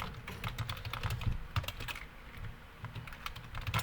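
Someone types on a computer keyboard, quick clusters of light clicks in irregular bursts with short pauses, close and fairly quiet, with no talking.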